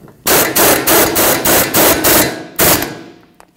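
A 21 mm wrench tightens a mounting bolt on the rear wheel hub of a 2013-2015 Chevrolet Malibu: about seven loud, close, rapid mechanical bursts in a fairly even rhythm, with no talking.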